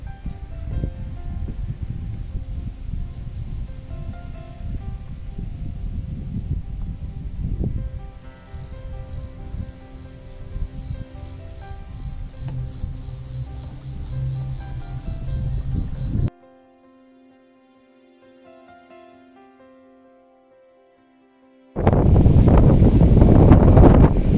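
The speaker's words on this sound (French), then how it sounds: "Aujourd'hui on a pas mal de vent, on a des rafales très vite" Gusty wind rumbles and buffets the microphone, cutting out to near quiet briefly before a strong gust slams back in loudly.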